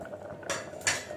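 Coarsely ground spices being stirred in a metal cooking pot for a traditional Bengali dalma vegetable dish, two brief scraping clinks of a spoon against the pot, close and moderately loud, with no talking.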